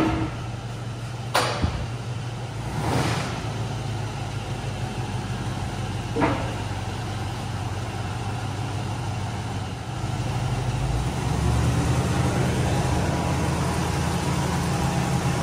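A Pontiac Trans Am styled after Smokey and the Bandit rumbles at a steady idle close by, a low continuous engine drone that swells louder near the end as the car rolls in, with a few brief sharp clicks early on.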